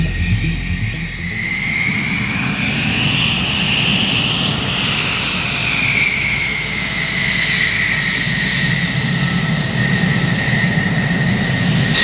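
F-16 fighter jets taxiing at an air force exercise in Konya, Turkey, a loud steady engine roar with a rising and falling whine that passes close by.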